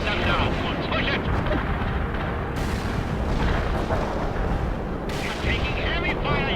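Heavy, continuous gunfire and booming artillery fill a battlefield in the World in Conflict: Soviet Assault real-time strategy game, dense and loud throughout with radio voices speaking over the din.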